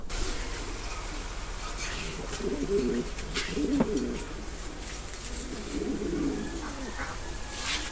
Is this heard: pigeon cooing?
yes